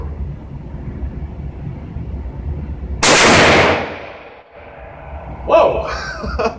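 A single deafening blast from a Smith & Wesson .500 Magnum revolver at an outdoor range, a sharp crack that rings and decays over about a second, followed by a brief excited voice.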